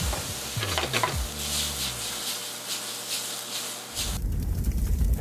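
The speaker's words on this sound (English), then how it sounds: "Saute for like maybe 2-3 minutes" Vegetables sautéing in hot oil for crab cakes, a soft continuous sizzle with utensil stirring and scraping at first, then a brief lull before the frying hiss swells back up, close and fairly quiet.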